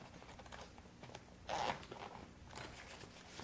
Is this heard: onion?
no